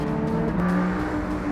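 A Lamborghini Huracan STO is driven hard on a race track, its engine droning loud and steady with rising and shifting tones as it pulls through, heard from close on board without speech.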